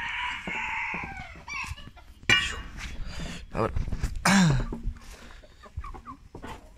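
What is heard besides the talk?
chickens clucking as the birds are let out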